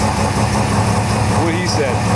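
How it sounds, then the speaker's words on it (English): A carburetor engine idles steadily after its idle screw was turned a couple of times, a close, even low rumble that runs the whole time with voices talking faintly underneath. "he can adjust that with just a couple turns on that idle screw on his carburetor"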